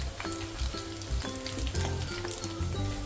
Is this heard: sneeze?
no